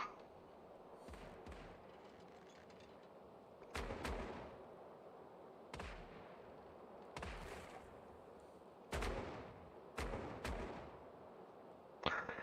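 Cannon shots from an enemy ship hit the player's sailing vessel in the naval game Caribbean Legend: about eight sharp booming blasts at irregular intervals, each with a short rumbling decay, over a low background hum.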